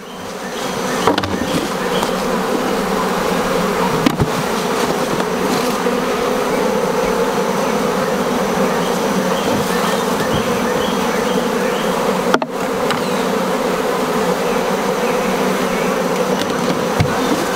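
Honeybees are shaken and swiped into a hive during a split transfer, making a dense, loud, continuous buzzing swarm close by. A few faint knocks of equipment come through, and no one speaks.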